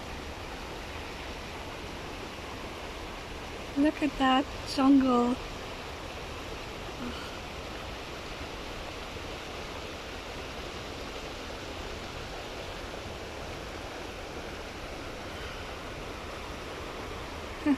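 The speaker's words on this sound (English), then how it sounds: "We finally made it to the waterfall." A waterfall in a Kenyan forest near Castle Forest Lodge roars as steady, broadband rushing water throughout, with a brief spoken remark early on over the constant flow.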